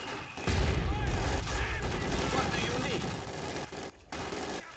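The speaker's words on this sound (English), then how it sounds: "I'm getting that machine gun." Machine gun fire and other gunfire crackle steadily through a busy Company of Heroes 2 battle, with near bursts under overlapping booms and voices throughout.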